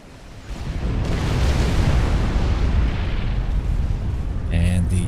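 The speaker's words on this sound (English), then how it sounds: "The missile has landed." A missile lands and explodes in Supreme Commander: Forged Alliance, a huge rumbling blast that swells and roars for several seconds beneath a voice, followed by a sharper burst at the end.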